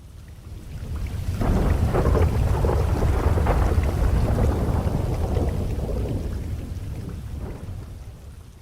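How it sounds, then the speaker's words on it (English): A thunderstorm with heavy rain pouring steadily and deep thunder rumbling through the middle, swelling and then fading slowly, with no voices. "there's a storm coming"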